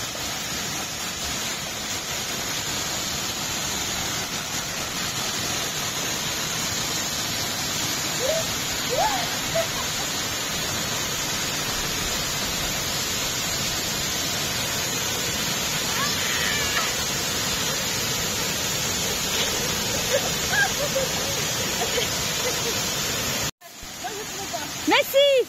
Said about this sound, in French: Elle m'a amené près d'une cascade.